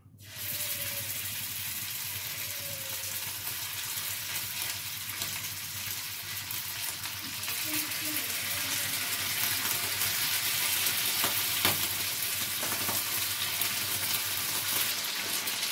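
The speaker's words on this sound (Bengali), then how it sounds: "ভেজে নিয়ে এক পিট করে ভালো করে ভেজে নিই" Food fries in a pan with a steady hissing sizzle that starts abruptly and grows slightly louder over the second half, continuous and close, with no speech.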